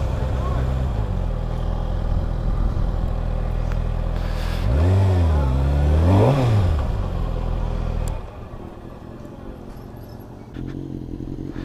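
Motorcycle engine revs at night, a steady loud idle rising into two sharp throttle blips midway, then the engine cuts off and a quieter rumble follows.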